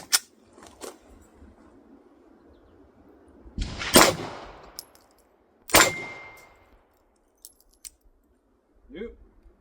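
A Beretta APX pistol fires Pakistani 2Z ammunition at a shooting range: two loud, sharp reports a couple of seconds apart, with faint clinks and rustles between them and a brief voice near the end.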